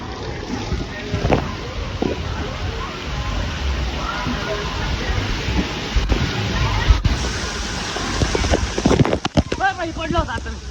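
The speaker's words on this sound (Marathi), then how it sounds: "लय पाणी पडते आहे" Heavy water pours down at a water park ride as a steady, loud rushing wash. People talk and shout over it, and there are a few sharp knocks and splashes near the end.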